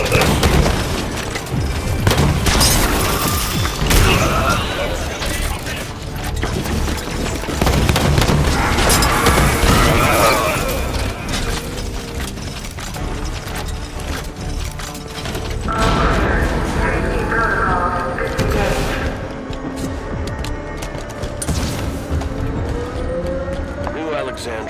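Continuous heavy gunfire and booming explosions fill a Halo 5: Guardians battle, loud and dense throughout, with voices speaking over the combat.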